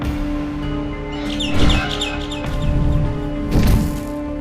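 Several short bright bird chirps in the video game Garten of Banban in quick bursts over a steady humming electronic backdrop, with two louder rustling swells.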